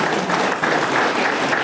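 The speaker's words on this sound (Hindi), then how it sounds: "जोरदार तालियों से सम्मानित कीजिए।" An audience at an event in Ranchi applauds steadily, a dense, loud wash of clapping hands that holds for the whole stretch without speech over it.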